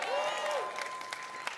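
Applause fills a large E3 press conference hall, a steady wash of clapping from a big crowd that carries on through the whole stretch with a faint tone over it.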